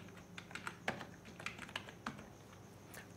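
Typing a sub heading on a computer keyboard in InPage, soft irregular key clicks in a quiet room, faint and close without speech.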